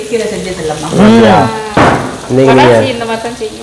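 Food sautéing in a pan, a steady sizzling hiss that rises and falls while a voice talks loudly over it.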